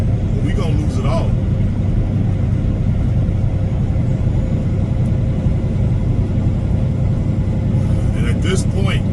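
Steady low road rumble from a car being driven, filling the whole stretch at an even level, with a voice talking over it near the start and end.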